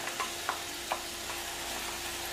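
A ground spice paste frying in oil with roasted gram flour for a dhaba-style potato curry, giving a steady, even hiss of sizzling with a few faint stirring taps early on and no voices.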